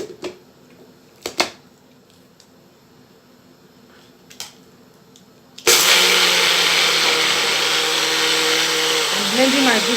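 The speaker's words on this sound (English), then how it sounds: "I'm blending my egusi to powder." Electric blender grinding egusi seeds to powder, switching on abruptly after a few quiet seconds with light handling noises, then a loud steady whirring drone that holds to the end.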